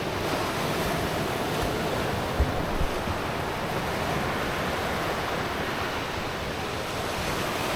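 Surf washing against the rocky Maine shoreline near Nubble Light, a steady broadband roar of breaking and receding waves with some wind buffeting the microphone, continuous and fairly loud with no voices.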